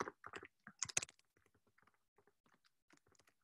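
Fingers type on a computer keyboard in a quiet room: a quick burst of close clicks, then lighter, scattered keystrokes that trail off.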